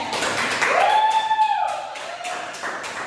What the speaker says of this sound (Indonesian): tepuk tangan dulu buat Angel